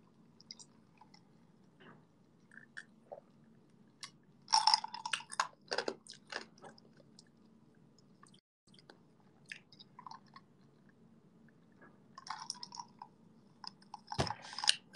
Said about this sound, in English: Why is it crunchy? That's